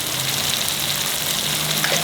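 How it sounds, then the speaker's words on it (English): A steady, close sizzle of ginger garlic paste frying in a hot pan, with faint crackles and no voices. "and keep frying."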